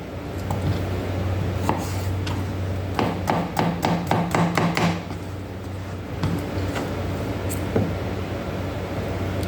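A knife slicing mango on a cutting board, with a quick run of close, sharp taps against the board in the middle among a few scattered cuts, over steady background hiss.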